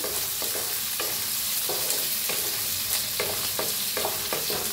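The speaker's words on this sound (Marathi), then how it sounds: "त्याच्यात टाकूया कांदा कापून घेतलेला बारीक, त्याला भाजून घेऊया" Finely chopped onion frying in a pan with green chillies, a steady close sizzle broken by repeated stirring scrapes at an uneven rhythm, with no voices.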